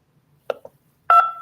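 Telephone keypad tones in an automated phone directory: a short beep followed by a brief second blip, then a longer, louder tone after a pause, clear against near silence.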